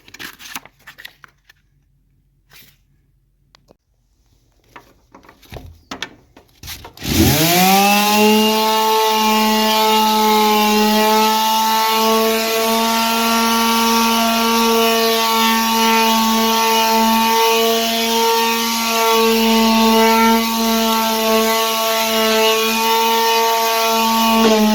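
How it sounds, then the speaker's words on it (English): A quarter-sheet power sander starts up on redwood after a few quiet seconds of light handling noise, then runs steadily with a loud, constant whine for the rest of the clip. "So I'm going to start sanding."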